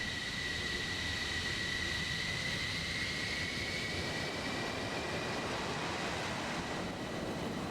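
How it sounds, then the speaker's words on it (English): An F-14A jet in a flight simulator takes off without afterburner, giving a steady, fairly faint engine roar with a thin high whine over it, continuous and unbroken with no talk. "A no afterburner takeoff in the F-14A. Good thing it's a long runway."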